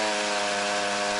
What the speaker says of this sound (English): Using a chainsaw, SES crews painstakingly pulled the tree apart branch